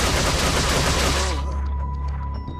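Dense rapid machine gun fire in a video game rattles loudly in a sustained burst, then cuts off, leaving a faint electronic tone and quieter background.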